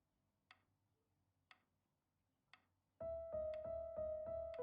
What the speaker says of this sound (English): You really need to stay in time with the metronome,